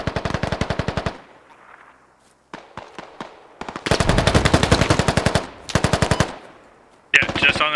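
Rapid bursts of video game gunfire, loud and close, fired in several volleys of machine-gun style shots with brief pauses and single cracks between them, ending in a harsher burst.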